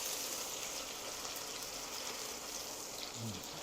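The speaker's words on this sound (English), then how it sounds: "We've got that sizzling." Shrimp and grits with tomato juice sizzle in a pan, a faint, steady crackling hiss that holds throughout with no talk.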